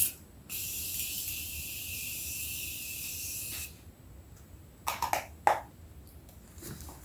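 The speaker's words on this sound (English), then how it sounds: "I'm going to set my face with the Morphe Continuous Setting Mist" A long steady hiss of Morphe Continuous Setting Mist sprayed onto a face, one continuous burst lasting a few seconds, followed by a couple of short sharp clicks and taps.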